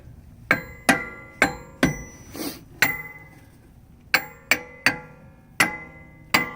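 A homemade adapter for a 2000 Excursion being tapped into place with a hammer, about ten sharp metallic strikes in irregular clusters, each ringing briefly, close and loud with no talking.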